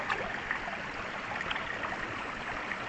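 Steady rushing water from a swollen creek after nonstop rain, with a broadband hiss, fairly close and continuous, no voices.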